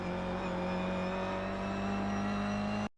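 A Toyota GR86 engine in the iRacing sim at Summit Point Raceway drones steadily under acceleration, its tone holding loud and even for about three seconds before it cuts off abruptly.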